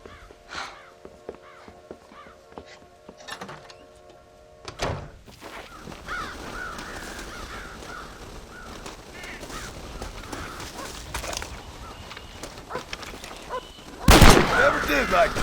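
Crows caw in the Red Dead Redemption video game: several harsh calls come in the first few seconds over a quiet outdoor backdrop. A steadier ambient rustle follows, then a sudden loud burst near the end.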